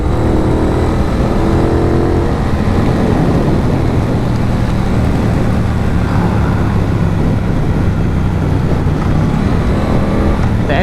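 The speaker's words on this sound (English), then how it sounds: "The engine braking, man," A 2022 Triumph Bonneville Bobber slowing under engine braking, its loud motor droning and falling in pitch with wind rush, heard from the rider's position without talk.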